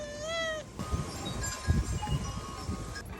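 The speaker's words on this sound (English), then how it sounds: "little orange kitty wants in" An orange cat meows at a door to be let inside, one rising, drawn-out meow up close, followed by shuffling and handling noises as the door opens.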